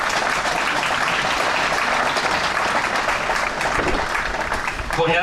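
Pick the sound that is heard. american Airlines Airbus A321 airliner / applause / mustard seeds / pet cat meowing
applause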